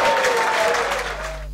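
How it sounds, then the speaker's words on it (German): Arena crowd applauding after a pool shot by Efren "Bata" Reyes in an 8-ball or 9-ball match, a dense wash of clapping under a commentator's voice that fades toward the end. "weil der Applaus wird so groß sein in der Arena."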